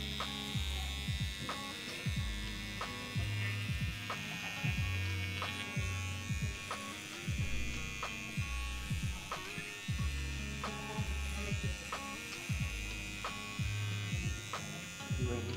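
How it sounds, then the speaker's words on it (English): An electric shaver buzzes steadily against a face, its drone broken by short repeated strokes and gaps as it is moved and lifted, close and fairly loud. "I have to shave my face and it's really annoying"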